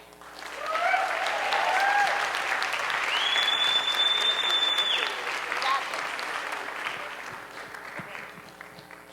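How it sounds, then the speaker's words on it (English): Audience applause at an Ignite Denver talk, a sustained, full round of clapping from a large room that swells early and tapers toward the end, with some voices and cheers mixed in. "So please bring a lot of applause for Doyle."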